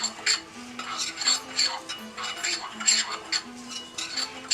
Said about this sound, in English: we're just going to mix this all up together in this bowl